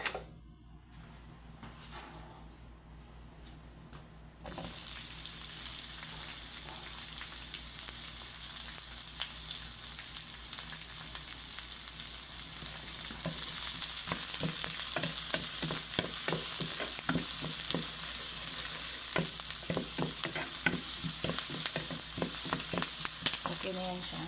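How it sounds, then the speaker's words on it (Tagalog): Onions fry in a pan for ampalaya, a steady sizzle building after a quiet start, with stirring scrapes and clicks of a utensil against the pan growing busier toward the end; no talking. "Dito, i-fried natin yung ating onions."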